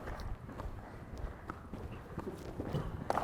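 A horse moves around a circle on arena ground during a riding masterclass, its hooves making soft, faint, fairly regular thuds heard from a distance.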